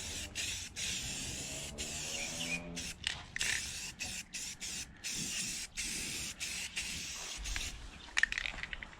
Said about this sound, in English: Make sure you get good coverage since this is the last coat.